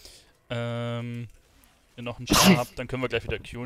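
One sudden sneeze bursts out close to the microphone amid casual German chatter during an online multiplayer game session, with voices talking before and after it.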